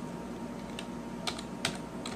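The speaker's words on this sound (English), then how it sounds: "My terminal is open here, so I'm going to type in some commands." Keys on a computer keyboard tapped while a Linux terminal command is entered, a few sparse, soft clicks over a steady low room hum.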